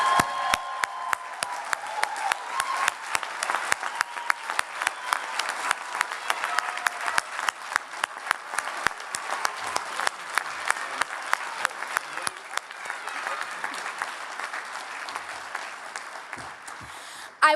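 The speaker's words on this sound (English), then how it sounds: "let's give our recipients one final round of applause" An audience applauds award recipients at an alumni awards reception, dense sustained clapping from a roomful of people that lasts the whole stretch and slowly thins toward the end.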